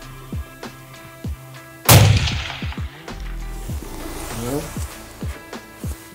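One loud, sharp rifle shot from an 8.5x55 Blaser cracks out on a range and decays with a ringing echo, framed by faint repeated metallic clicks and a brief murmur of voices afterward.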